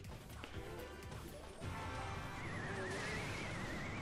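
Hog Rider unit call in the Clash Royale game, a drawn-out rising yell over a dense bed of battle effects with crashes and thuds, loud and continuous.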